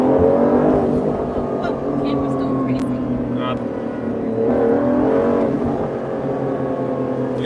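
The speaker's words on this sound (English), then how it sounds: "You can also distinctly hear both of the turbochargers gathering, sucking in air." A 2020 Aston Martin DBS Superleggera Volante's twin-turbo engine drones in a steady, loud rumble with turbocharger air rushing over it, close by, while a person talks briefly.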